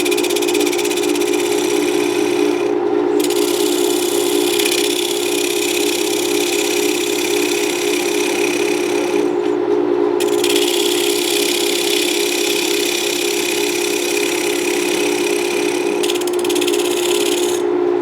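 Steady, loud droning whir of a wood lathe while a gouge carves the round bottom of a wooden bowl, the cutting hiss breaking off briefly twice before resuming.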